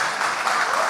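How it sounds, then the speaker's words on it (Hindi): Audience at a live Bollywood interview event claps in a dense, even wash of applause, brief and fairly loud, with no voices on top. "ताली तो बजा दो।"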